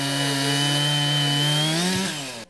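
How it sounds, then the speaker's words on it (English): A chainsaw cuts through timber at the annual Loggers Jamboree in North Fork, a loud, close, steady whine that holds its pitch before dropping as the cut finishes and the saw cuts off abruptly. "This is the 53rd year loggers have made chainsaws sing in the land of tall timbers."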